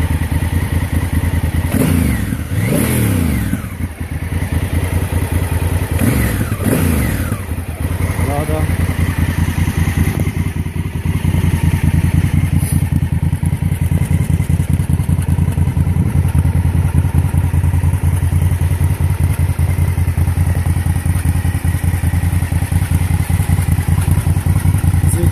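A motorcycle engine runs loudly and continuously up close, with revving swells early on before it settles into a steady throbbing idle, while someone talks over it.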